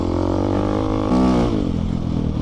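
A dual-sport motorcycle (KTM 690, Suzuki DR650 or SWM Superdual) ploughing through sand, its engine a loud, steady droning roar that briefly rises in pitch before settling.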